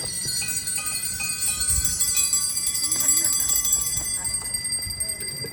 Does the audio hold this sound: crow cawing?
no